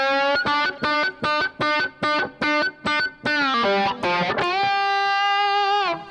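A distorted electric guitar plays a lead phrase: a quick series of evenly repeated, sharply picked notes, then a held note bent upward that rings out, loud and up front with no talking.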